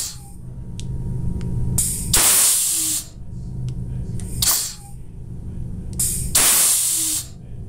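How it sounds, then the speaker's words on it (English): A TopWorx Valvetop valve actuator reversed from its button board releases three loud, close bursts of rushing air hiss, each lasting about a second, over a steady low hum. "you can reverse the valve with the button board"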